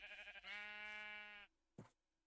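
A sheep bleats once in Minecraft, a single sustained nasal bleat up close, followed by a brief soft thump in the quiet game setting.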